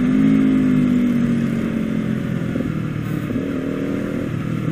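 Indonesian street traffic with small 125–150 cc motorcycles and some bigger bikes, a steady close engine drone and passing revs over a continuous roadway rumble, no talk.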